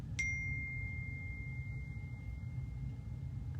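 A phone notification gives one clear ding that rings out and slowly fades over a low background hum, with a much fainter tick near the end.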